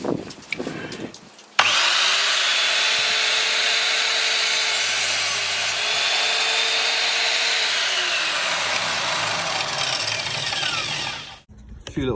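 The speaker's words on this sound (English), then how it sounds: "I'm just going to see how accurate and how clean the cut is on wood." An Evolution R185SMS+ mitre saw spins up and cuts a wooden architrave at 45 degrees, a loud close steady whine with rough sawing grit through the wood, then winds down, with brief handling noise before.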